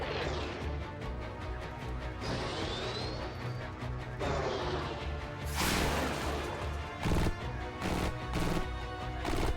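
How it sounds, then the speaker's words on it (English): Missile impacts and crashing explosions from the strategy game Xenonauts 2, a run of loud bursts and smashes with a whistling projectile sweep, dense game audio without talk. "his missile shot his other missile"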